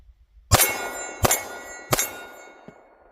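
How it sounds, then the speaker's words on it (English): Three sharp metallic clangs of bullets hitting a steel silhouette target ring out at regular intervals, each decaying quickly, with a fainter fourth ping at the end; distant and otherwise quiet. "If it holds 0, you'll hear a ding."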